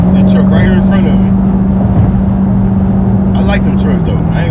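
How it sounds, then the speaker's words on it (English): Trucks drive along a road with a loud, steady low engine drone throughout and a passing vehicle's rush, while someone talks over it close by. "I like them trucks, though. I ain't gonna lie, them trucks sound good."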